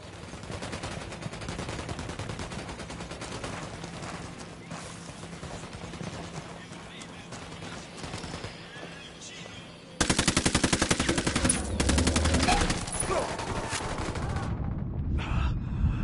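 Rapid bursts of automatic gunfire rattle almost continuously, with explosive crackle, growing louder and denser partway through, in a Ghost Recon Wildlands battle.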